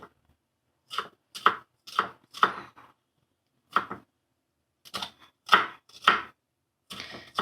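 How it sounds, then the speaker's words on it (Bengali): Onions being chopped with a knife on a board for a home-cooked rice dish: a dozen or so crisp, close knocks, some in quick pairs and runs, with short pauses between bursts and no talking. "আর সমস্ত পেঁয়াজটা ভালো করে আমি চপিং করে নিচ্ছি"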